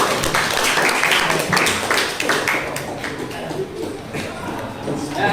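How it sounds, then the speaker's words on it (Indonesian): A group of participants at the close of a training session claps together, a loud, busy patter at the start that thins gradually, with some shuffling and faint talk mixed in. "Tepuk tangan buat kita semua ya."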